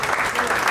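A church congregation applauding, a dense, continuous wash of clapping from a crowd that fills the whole brief moment at full loudness.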